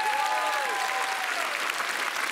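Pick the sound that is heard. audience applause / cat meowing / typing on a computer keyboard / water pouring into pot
audience applause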